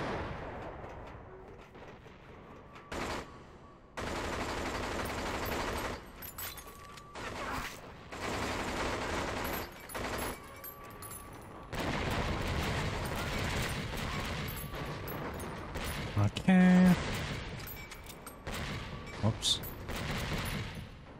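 Enemies fire in the shooter video game 007 Agent Under Fire, with rapid bursts of automatic gunfire and heavier blasts repeating across a long stretch, loud and dense with brief gaps between volleys.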